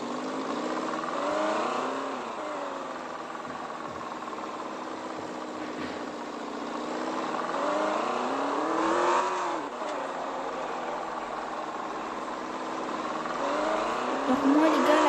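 Range Rover driven in sport mode in the Taxi Sim 2020 game, its engine revving up and down through several rising and falling sweeps at moderate loudness, with someone talking over it in places.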